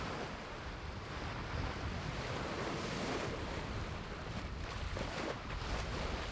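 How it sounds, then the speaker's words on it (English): Ocean waves wash and surge around a sailboat at sea after a hurricane, with steady wind buffeting the microphone in a continuous broad roar and no voices. "I was expecting slightly bigger waves as it has been pretty windy lately"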